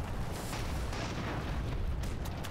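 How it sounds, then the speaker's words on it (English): Powerful cannons fire from a blimp in a video game, a dense barrage of booms and bursts, fairly quiet and continuous, with sharper blasts near the end. "We got pretty powerful cannons."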